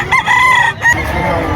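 Gamecock at a chicken market in Padre Garcia or Lipa City, Batangas, crowing loudly at close range in one drawn-out call with clucking, over background crowd murmur.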